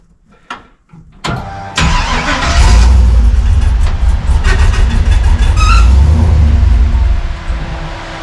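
A Toyota FJ40 Land Cruiser engine catches after a short crank, then runs loud and rough at close range, its idle surging and sagging as though it wants to stall, with no talk over it.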